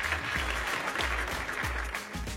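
Studio audience applause on an Armenian TV game show, a dense steady wash of clapping that holds at an even level for the whole stretch, with no voices over it.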